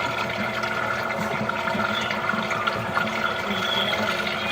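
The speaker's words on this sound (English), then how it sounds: "So we've got a lot of water going through this line right now" Water flows steadily through a condo sewer line, heard as a continuous rushing, gurgling wash at an even level throughout.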